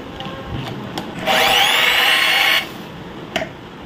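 A power drill bores into a skating shoe during a shoe modification, running in one steady whining burst of about a second between quieter handling noises.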